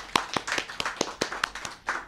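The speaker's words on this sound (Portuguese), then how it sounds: "Vamos aplaudir o Senhor Jesus?" A church congregation claps in praise, sharp individual claps at an irregular rhythm of roughly four or five per second, close and moderately loud with no talking.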